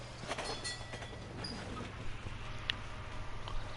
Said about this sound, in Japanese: He must have caught the trolley.